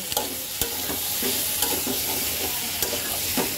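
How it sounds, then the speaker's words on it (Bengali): Boiled potatoes and green chillies frying in a pan, a bright steady sizzle with a spoon scraping and stirring in irregular taps, close and without talk. "দিয়ে দেব কাঁচা মরিচ, দিয়ে দেব সেদ্ধ করা আলু। এটাকে সুন্দর করে কষাবো।"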